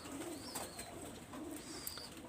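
Pigeons, import-blood flying and breeding pairs, give soft, low repeated coos at a quiet, moderate distance, with a few faint higher chirps above the cooing.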